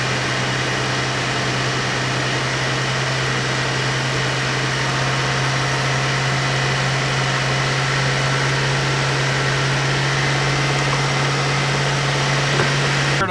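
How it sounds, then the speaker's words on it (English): A car engine with direct injection idles steadily, a smooth constant hum with a low steady tone and light vibration, close and alone with no talk. "Now we'll turn the car to idle"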